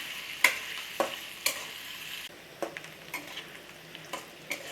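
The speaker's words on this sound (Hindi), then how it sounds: "ये प्याज भी ऐड कर देंगे। अभी मैं 2 मिनट फ्राई करेंगे अच्छे से।" Garlic and onion fry in a pan for a spiny gourd (kakora) curry, a soft continuous sizzle broken by several sharp utensil taps and scrapes against the pan, no talking.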